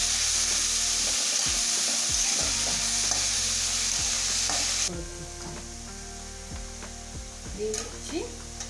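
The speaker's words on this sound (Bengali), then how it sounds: "টমেটো কুচি, পেঁয়াজ কুচি, লঙ্কা কুচি, গাজর কুচি, সবগুলো দিয়ে আমি একটু ভেজে নেব।" Chopped tomato, onion, green chilli, carrot and capsicum fry in a pan with a steady broadband sizzle, punctuated by several sharp spatula scrapes and stirring knocks; the sizzle dips in loudness midway as the pan settles.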